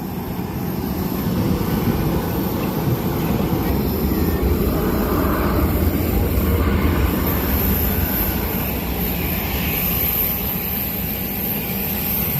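A steady, loud roar of an airplane engine drones throughout, constant and unbroken, with no voices.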